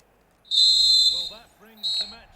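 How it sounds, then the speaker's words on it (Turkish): Referee's final whistle in the FC25 football video game, ending a Galatasaray home match: a long shrill blast followed by a shorter one, loud and close, with a commentator's voice talking underneath. "Son düdük geldi."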